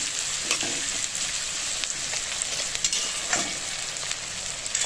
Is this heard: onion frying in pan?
yes